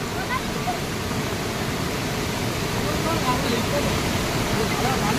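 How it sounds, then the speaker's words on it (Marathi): After heavy rain, floodwater pours over a culvert in a steady, broad rushing wash that stays constant, close and moderately loud. "पाणी बघा किती जात आहे वरून."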